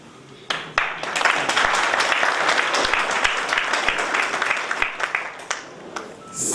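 Audience applause at a school discussion event, a burst of clapping that swells and holds steady with distinct individual claps audible, then tapers off at the end.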